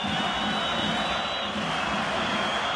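A basketball arena crowd roars in a continuous, dense wash of noise during a Eurobasket free throw, steady and loud for the whole stretch, with no clear separate voices.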